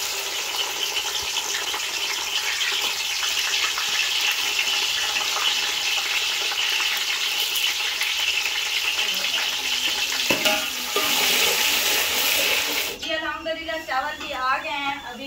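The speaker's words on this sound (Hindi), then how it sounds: "घी मेरा अच्छे से गर्म हो चुका है, मैं डालती हूँ प्याज" Onions dropped into hot ghee in a village kitchen, giving a loud, steady sizzle and crackle of frying with stirring clatter, and a voice speaking over the frying near the end.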